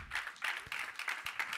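Congregation in a church service clapping hands together in a steady rhythmic beat, about two claps per second, moderately close and somewhat faint, with no talking over it.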